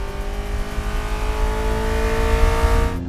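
A McLaren 600LT MSO's engine drones at steady high revs from inside the cabin, a loud sustained tonal roar with a slight rise before cutting off at the end.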